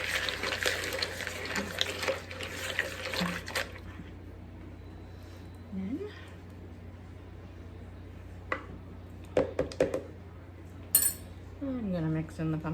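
A spoon stirs a yogurt and pumpkin mixture in a bowl, giving soft wet squishes and light clinks against the bowl, with quiet talking in places.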